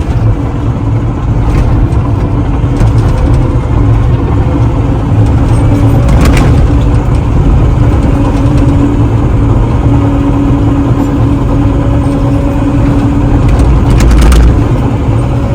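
Heavy trucks at a construction site cutting an access road, with engines idling and rumbling nearby in a continuous low drone that stays loud and steady, with a few clanks and knocks on top and no voices.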